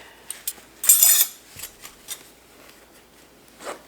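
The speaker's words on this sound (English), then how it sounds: "I'm first going to get all of the correct silverware in these containers" Metal silverware clinks and rattles as pieces are sorted into kitchen containers: a few light taps, one louder clattering burst, then scattered soft clicks and knocks.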